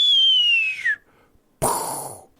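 A voice imitates a whistling bottle rocket going up, a clear falling whistle lasting about a second, followed after a short silence by a burst of breathy noise like the rocket popping.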